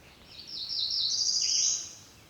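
A Cerulean Warbler sings from high in a tree on the Blue Ridge, a bright, high buzzy song rising in pitch and running continuously for about two seconds, fairly clear against a quiet outdoor background.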